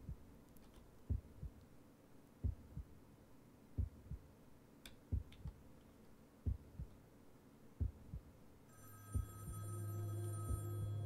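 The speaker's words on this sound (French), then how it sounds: "Oh, Tara, ce téléphone." A telephone ring in the horror game Sally Face cuts in near the end as a bright electronic tone over a steady series of dull, evenly spaced thumps.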